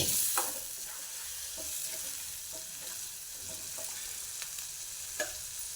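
Leftover spinach dal goes into a pan of spinach bhaji and is stirred, a gentle sizzle running throughout with scattered scraping clicks of the spoon against the pan.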